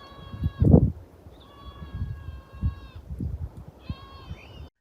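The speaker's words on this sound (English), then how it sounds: "we saw a herd of Barbary sheep, including their braying babies." Three drawn-out, wavering bleats of Barbary sheep lambs rise above rustling and low rumbling background noise, each cry lasting over a second with short pauses between.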